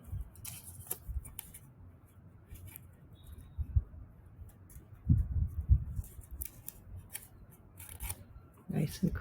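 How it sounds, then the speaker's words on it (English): Paper is folded and creased by hand for a sixth-grade art class craft, producing scattered rustles and soft presses over a quiet room, with a voice present at times. "I'm going to fold it."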